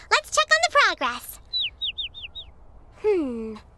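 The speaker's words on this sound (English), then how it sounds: "The seeds on the path are being eaten by birds." Cartoon birds eating seeds on a path give a short run of bright, rapid chirps, then a series of five evenly spaced whistled tweets and a final chirp. The chirps are clear and close.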